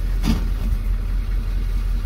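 An M1028A2 CUCV idles steadily as its front drive is shifted into high, with a single brief clunk of engagement near the start over the constant low engine rumble.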